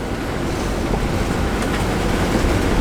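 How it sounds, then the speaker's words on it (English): Big ocean waves surge and break around a sailboat on a rough coastal passage between Carolina Beach and Charleston, a steady loud wash of surf with heavy wind buffeting the microphone throughout. "Careful about the big old waves."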